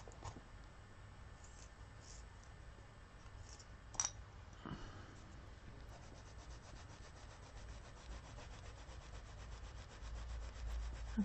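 A colored pencil being sharpened, giving a quiet, continuous gritty grinding that goes on steadily for several seconds, with a couple of small clicks and no talk.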